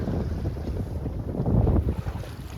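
Wind rushing over a sailboat under sail on a mild, breezy day, a steady low roar of buffeting wind noise with water sounds beneath, building slightly toward the middle and continuing without speech.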